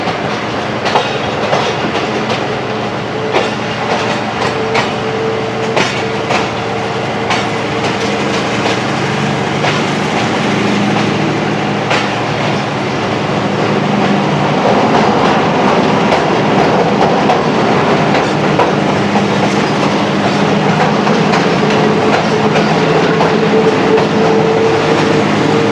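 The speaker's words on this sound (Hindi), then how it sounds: "अब ड्राइवर साहब ने नोचअप कर दिया है।" The Sialkot Express, hauled by an A30 locomotive, accelerates out of a railway yard in heavy rain, a loud, continuous rumble with clickety-clack of the wheels that grows stronger over time.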